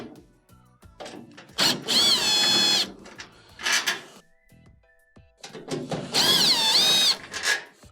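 A power drill backs Phillips screws out of a GE dryer in two close bursts of whirring, with clicks and handling noises between them.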